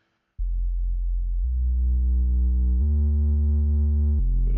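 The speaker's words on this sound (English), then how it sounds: "So if I turn down this distortion, you see the difference" A synth in LMMS plays with its distortion turned down for a drum and bass track, a loud sustained buzzy tone that steps through several held pitches after a sudden start, alone.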